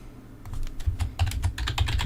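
Quick typing on a computer keyboard during a programming session, a rapid run of close, crisp key clicks with a low hum beneath, no one talking.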